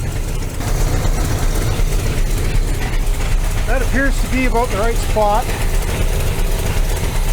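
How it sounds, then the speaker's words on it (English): A low, steady engine idle of a Corvette at about 1100 RPM, freshly fitted with new spark plugs, rumbles throughout while someone speaks briefly over it. "we're idling at about 1100 RPM"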